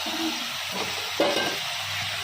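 Fried shrimp hits a hot pan of spinach with a soft burst of sizzling and stirring, then a steady frying crackle continues at moderate volume.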